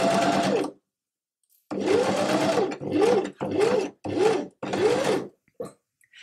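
Sewing machine running a straight stitch through fabric for a pumpkin pin cushion, in several short bursts with pauses between, close and fairly quiet.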